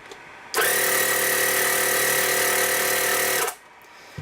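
Kensun AC/DC portable air compressor inflating a tire kicks on abruptly, runs as a loud, steady mechanical buzz for about three seconds close up, then cuts off sharply.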